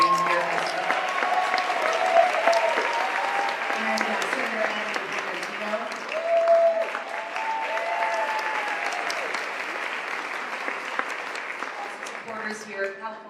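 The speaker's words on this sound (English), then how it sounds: "If we can give her a round of applause for being here as well." Sustained audience applause for Congresswoman Judy Chu fills the room at a steady level for the whole stretch, with voices talking faintly beneath it.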